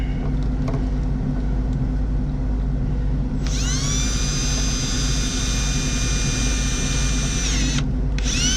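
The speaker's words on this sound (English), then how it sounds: "Good drill bits is a must." A power drill whines at high speed for about four seconds while working on a Toyota ignition, starting abruptly and cutting off, after a stretch of steady low engine-like rumble.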